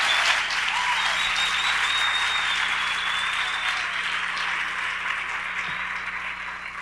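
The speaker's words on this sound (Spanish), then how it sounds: "Démosle un aplauso y después le digo cómo." Sustained applause from a church congregation fills the space at a steady level throughout, a dense wash of many hands clapping with no voices rising above it.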